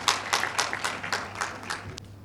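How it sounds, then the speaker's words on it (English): An audience claps for a correct answer at a gender-based violence awareness event in Borno, a short burst of about eight spaced, fairly close claps with no talking. "Let's clap for her."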